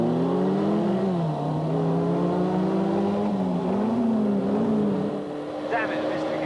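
A Formula First race car pulls away from the start, its engine revving loud and close through climbing gears with a brief dip as a shift is fumbled, then rising again; a voice talks over part of it.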